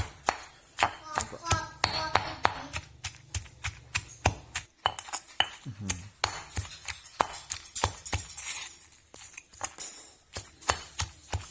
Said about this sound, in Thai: ตำน้ำพริกน้ำปูนะครับ